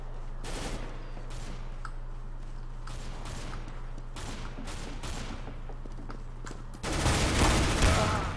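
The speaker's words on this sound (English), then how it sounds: "I shot at the wrong guy." Gunfire in an online shooter video game, with rapid bursts of shots over a steady hum throughout, turning into a louder, denser wash of firing near the end, and no speech.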